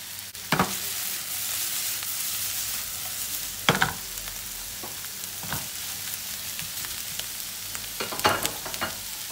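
Chopped green peppers and red kapya peppers sizzle steadily in a hot pan, with several louder scraping stirs at intervals against the continuous frying hiss.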